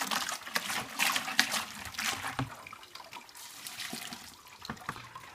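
Water is slowly tipped from a jug over a grain mash to sparge it in home beer brewing, a soft, close trickle and pour with light splashing, faint and unbroken by talk.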